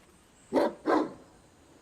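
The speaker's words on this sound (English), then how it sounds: "Shut up, Zeke, you stupid dog." A dog named Zeke barks twice in quick succession in a video game, short sharp woofs at moderate distance over a quiet background, with another bark beginning at the end.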